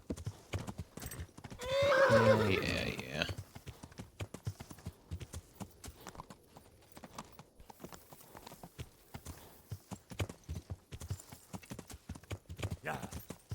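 Horse hooves clip-clopping in the medieval video game Kingdom Come: Deliverance, a rapid steady gait of close hoofbeats with a loud neigh near the start and someone talking briefly.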